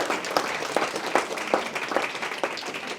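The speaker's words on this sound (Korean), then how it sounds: "자, 그러면 두 분 교육감을 뜨거운 박수로 모시도록 하겠습니다." Audience at a 2014 public education forum applauds steadily to welcome two education superintendents, a dense continuous patter of many hands with rhythmic swells, moderately loud and without talk.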